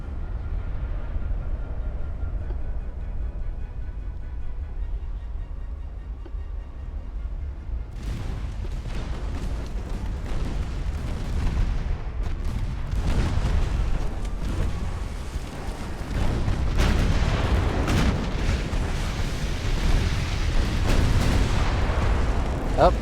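Naval artillery fire in the warship game Ultimate Admiral: Dreadnoughts, with a low rumbling bed that breaks into repeated heavy booms and bursts, loud and continuous, while a voice talks over the battle.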